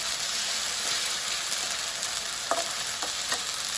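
Winter vegetables with ginger-garlic paste fry in a pan, giving a steady close hiss of sizzling oil with a few faint scrapes of stirring near the end, and no voices.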